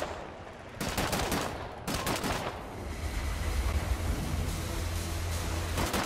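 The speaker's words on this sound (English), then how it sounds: "and there's a fucking machine gun turret there." A machine gun turret firing in the shooter game Wolfenstein: The New Order, heavy sustained gunfire blurring into a thick roaring wash with short bursts and rumbling low-end noise throughout.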